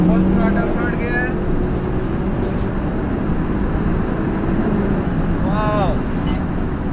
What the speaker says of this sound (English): Let us try to get a full throttle, third gear.